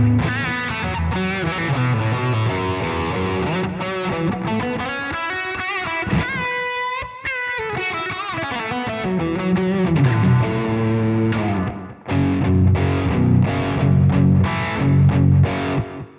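An electric guitar played through a humbucker pickup with slapback delay and reverb rings out in loud, distorted chords and melodic lines, continuous with brief pauses and no talk.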